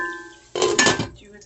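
A lid clanks onto a cooking pan in a single bright metallic clatter with a short ringing tail, fairly close and clear.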